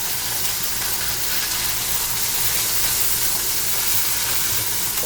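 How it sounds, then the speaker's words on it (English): Steak fat sears in a hot skillet with a loud, steady, dense sizzle and hiss that carries on unbroken throughout, close up and alone. "I'm going to go ahead and do is I'm going to singe the back side of the fat first"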